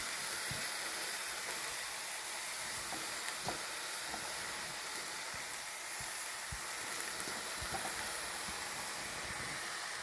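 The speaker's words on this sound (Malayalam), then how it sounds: "ആവി വരുന്നുണ്ട്." A pot of cheera thoran, amaranth greens cooking with water, gives off a continuous steamy hiss with a light sizzle and scattered small pops and ticks. It plays alone at a moderate level.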